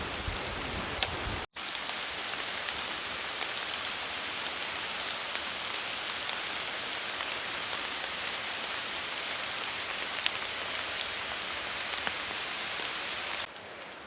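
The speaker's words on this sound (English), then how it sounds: "It's just coming on to rain, so I'm going to head on down now." Steady rain falling in the wet tropics, a dense even hiss of drops on surfaces with occasional louder individual drips, continuous and close throughout.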